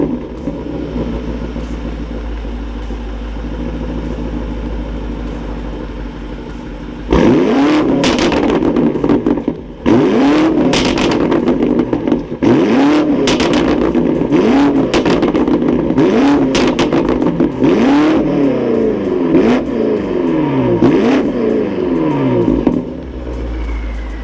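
A 2021 BMW M5 Competition with a titanium exhaust idles with a low rumble, then revs repeatedly in sharp, loud bursts that rise and fall close by, with no talk.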